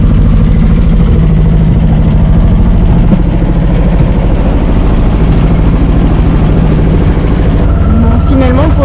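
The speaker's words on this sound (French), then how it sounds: "je vais pouvoir couper ce satané moteur" The auxiliary engine of a 28-foot sailboat on a solo Pacific crossing runs close and loud, a continuous low chugging drone that holds steady throughout, with a brief higher squeak near the end.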